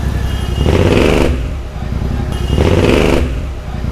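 A motorcycle engine revs twice in quick succession, each surge rising then dropping back to a rumbling idle, loud and close.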